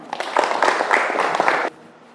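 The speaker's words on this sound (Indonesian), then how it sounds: "Tepuk tangan sekali lagi untuk kita semua." A classroom group claps briefly for about a second and a half, a close burst of hand claps that stops abruptly into quiet room tone.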